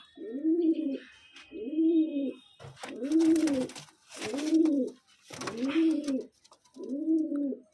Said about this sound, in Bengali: পুরো এক পেয়ার পায়রা